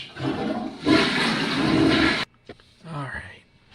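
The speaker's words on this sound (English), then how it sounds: "Flush." A toilet flushes at close range, a loud rushing gush of water for about two seconds that cuts off abruptly, followed by some quieter movement and a few soft words.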